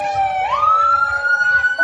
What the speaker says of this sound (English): the Ketchikan Fire Department is blaring those sirens in the background